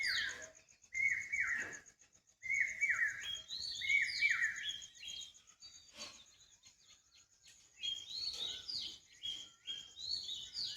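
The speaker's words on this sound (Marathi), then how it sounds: "पक्ष्यांची आवाज बघा." Birds chirping and calling at dawn around 5:45 in the morning along a rural road, repeated bright tweets in bursts over a faint insect drone, moderately near, no talk.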